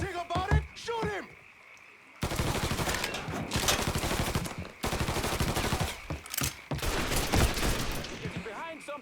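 Gunfire in the Mafia III video game, rapid bursts of automatic shots and fusillades crackling loudly in clustered volleys, with shouted voices between and over the shooting.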